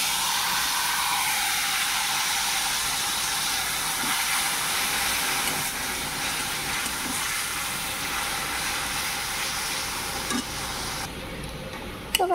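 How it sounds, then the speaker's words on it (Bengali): Spice paste of onion paste, turmeric, cumin, chilli powder and salt fries in a pan for an egg and potato curry, giving a steady, close, continuous sizzle with occasional stirring scrapes and no talk. "তো গাইস এখন মশলাটাকে ভালো করে ভেজে নেব।"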